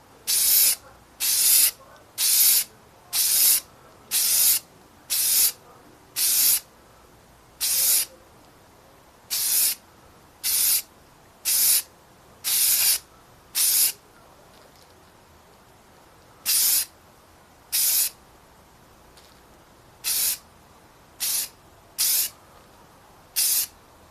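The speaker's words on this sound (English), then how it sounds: "I'm going to spray the dark gray blotches on the wings" Short hissing bursts from a spray paint can spraying dark gray blotches onto model airplane wings, about twenty in a row with brief pauses between them, close and otherwise quiet.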